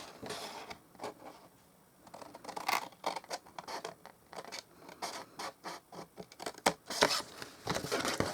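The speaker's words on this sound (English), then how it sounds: "I'll use my big scissors, I think. Yep. So cut up on the score line to the score line." Large scissors cut along a score line in card or paper while building a small storage shelf, giving a series of close, crisp snips and scratchy slicing strokes in irregular bursts, with no talking.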